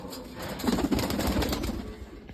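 Soft pigeon cooing and fluttering amid a busy, noisy outdoor background, with no clear speech.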